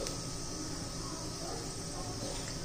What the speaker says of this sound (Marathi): हे पहा, जिरं मोहरी तडतडली आहे